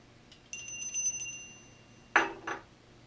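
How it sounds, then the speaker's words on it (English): A small hand bell rings twice, a shimmering ring that fades, then a sharper second ring with a quick follow-up, close and fairly quiet. "I have this bell"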